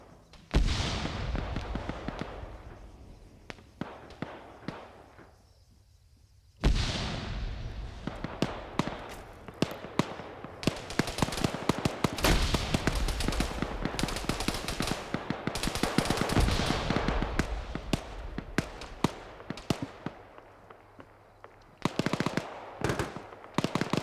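Arma video game firefight with dense rapid gunfire, automatic bursts and single shots crackling almost continuously, with a brief lull before the shooting resumes loud and sustained.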